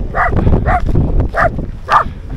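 A dog barks four times at a steady pace, close and loud, over a low rumbling background.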